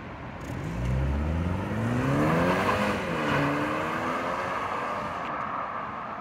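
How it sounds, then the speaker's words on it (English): A BMW 228i Gran Coupe with a turbo four-cylinder and 18-inch wheels launches hard from a standstill. The engine rises through the gears with a shift dip midway, heard loud and steady from inside the car. "let's go ahead and get a launch in this 228 here by BMW"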